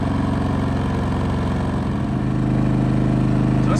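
A Westinghouse iGen 4500 inverter generator runs under load from household appliances with a loud, close, steady engine drone that rises slightly in pitch and intensity as it revs up near the end.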